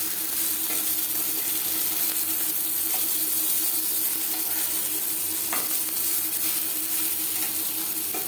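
Catla fish belly pieces sizzle steadily in hot oil, a constant crackling hiss close by with occasional soft clicks from the pan, no talking.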